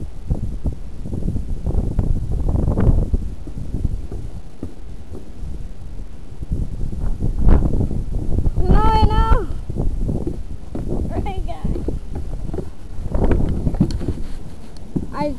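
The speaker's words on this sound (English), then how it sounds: "Look how windy it is." Strong wind blows outdoors, rumbling and buffeting loudly and steadily against the microphone, while people talk over it.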